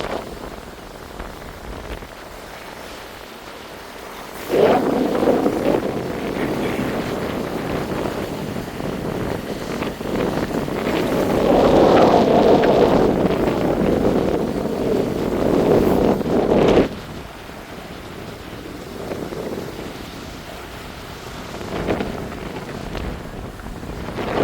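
Wind gusting over open water near a boat off St. Thomas, a steady broadband rush and buffeting against the microphone that swells louder in the middle and eases toward the end.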